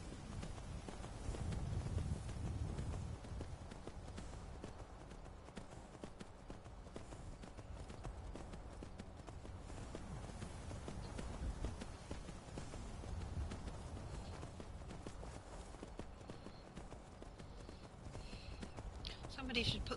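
Horse hooves clip-clop steadily while riding along a road in the video game Skyrim, a continuous galloping patter with game ambience and a voice speaking over it.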